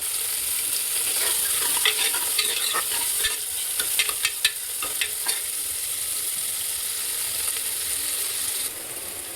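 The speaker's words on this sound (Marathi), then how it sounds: "कांदा भाजतोय तोपर्यंत मी एक राऊंड मारून येते" Onion frying in a pan with a steady close sizzle, broken by a burst of scraping, clattering spatula stirring in the middle; no voices.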